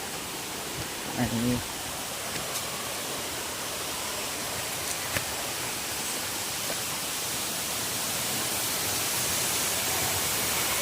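A steady roar of rushing water comes from the Tulshi village waterfall, swollen by water released from a dam. The broadband wash holds constant and grows slightly louder near the end, with a brief sound early on.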